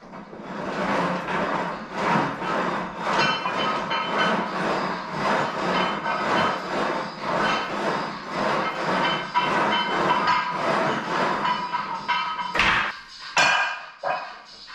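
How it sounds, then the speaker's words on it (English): Weight plates being handled and slid onto a gym machine carriage, a continuous stretch of clanking metallic knocks and scrapes, with sharper loud clanks toward the end. "So I'm going to put a 10 on each end and a 5 on each end."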